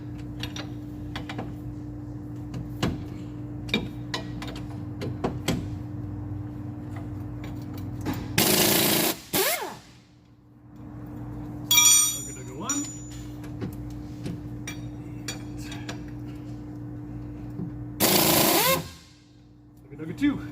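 A small impact gun removes the lower knuckle bolts during a Subaru GC Impreza suspension install. Two loud, close rattling bursts stand out from the garage background, with someone talking between them.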